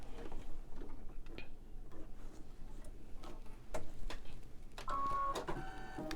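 An embroidery machine stitching around a design, a quick steady ticking and whirring with a brief higher mechanical whine near the end, fairly faint and close.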